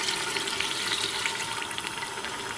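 A glass of milk is poured into a pot of potatoes and fenugreek cooking on the stove, giving a continuous close splashing pour mixed with light sizzling, without talk.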